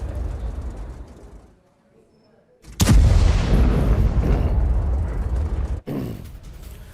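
Explosions from an Israeli air strike on an IRGC headquarters in news footage, a sudden heavy boom followed by several seconds of loud rumbling roar, then a second blast, with murmured voices before.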